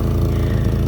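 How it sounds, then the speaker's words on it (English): A Rover 820 Si engine runs with a blowing exhaust, giving a steady, loud, close mechanical drone with no voices. "I know you can hear the exhaust blowing in that"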